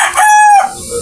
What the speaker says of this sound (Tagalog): Ito nga ang isang manok natin na kapatid nila